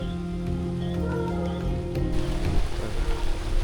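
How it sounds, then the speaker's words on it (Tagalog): Rain beginning to fall at a mountain campsite in Tuba, Benguet, near Baguio: a steady close hiss of drops on surfaces over a low rumble, thickening and growing slightly louder toward the end. "At dito nga ay nagsimula na pumatak ang ulan."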